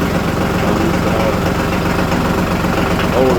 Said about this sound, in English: So nice when you got a tractor. It will start right up there.